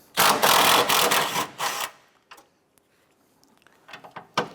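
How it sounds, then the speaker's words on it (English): A 13mm bolt is worked loose from the front torque strut engine mount of a 2006-2013 Chevrolet Impala, with loud rapid ratcheting bursts for about two seconds, then quieter scattered clicks and taps. "Remove this 13mm bolt."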